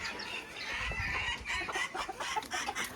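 Belgian porcelain and Belgian mille fleur bantam chickens alongside silver and gold Sebright bantams cluck and chatter in a coop, a steady overlapping stream of close, moderately loud calls with no talking.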